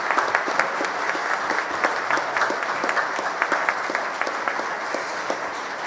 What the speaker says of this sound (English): let's give a big round of applause for John Bon Jovi